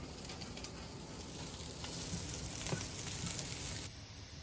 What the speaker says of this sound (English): Now we're gonna add 2 tablespoons of raw sesame seeds. And we're just gonna cook that for 2 minutes.